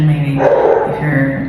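A pet dog gives a short bark or yip in the background of a home room while a person keeps talking over it.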